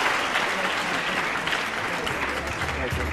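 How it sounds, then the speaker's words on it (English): Loud, sustained applause from a large crowd fills a 2002 World Pool Championship match between Earl Strickland and Francisco Bustamante, with a commentator's voice running under the clapping. "the crowd are very enthusiastic towards Bustamante"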